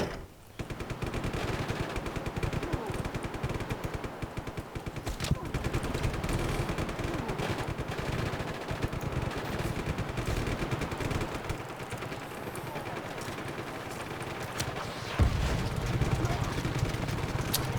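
A detached mounted machine gun fires continuously in the open-world action game Just Cause 3, a dense, unbroken rattle of rapid shots that stays loud and close for the whole stretch.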